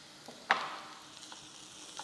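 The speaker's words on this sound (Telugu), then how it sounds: "ఇది మరీ ఎక్కువ వేయించక్కర్లేదండి, ఎందుకంటే మనం కీమాని బాగా వేయించుతాం కాబట్టి ఇది ఎక్కువ వేగనిస్తే మాడిపోతాయి ఉల్లిపాయలు" Onions with turmeric and salt fry in a pan, a soft sizzle under one sharp clink near the start before the sizzle settles into a faint, steady hiss.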